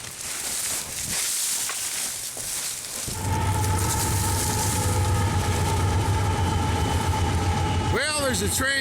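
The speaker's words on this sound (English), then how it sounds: "There's a train coming, and I'm just gonna hide here for a minute until it passes." Train rolling past on nearby railroad tracks, a steady loud rumble with a sustained tonal hum setting in and holding, ending with squealing wheel screeches, after a stretch of outdoor noise.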